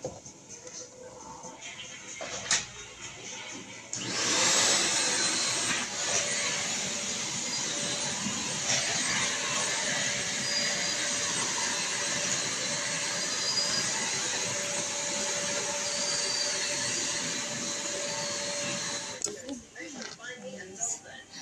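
A Deerma DX115C vacuum cleaner switches on, running loudly and steadily with a broad whooshing motor roar for about fifteen seconds before cutting off, with some handling noise before and after.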